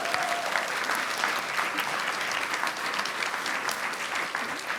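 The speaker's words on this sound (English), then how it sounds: "Let's give them a round of applause." An audience applauds a food panel of women chefs and food experts at an LA evening event, steady dense clapping filling the room for the full stretch with no talk over it.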